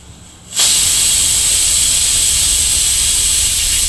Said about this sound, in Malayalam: ഒരു 2 ഫിസിലും കൂടി അടിക്കട്ടെ.